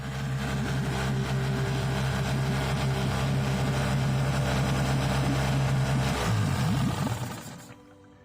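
A Yamaha 9.9 outboard motor runs with a steady, loud low drone, then cuts out near the end as the kill switch cord is pulled, leaving a brief sputter and near silence.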